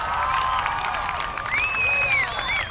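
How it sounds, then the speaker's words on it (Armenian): Crowd applause and cheering at an Armenian Independence Day celebration, a steady wash of clapping with a few whistles rising over it near the end. "այս ծափահարությունները ձերն են"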